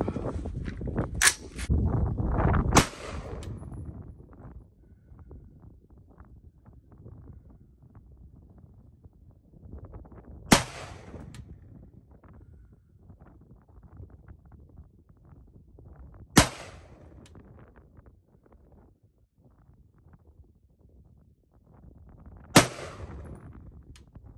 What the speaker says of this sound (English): we're going to see how these 5 shots group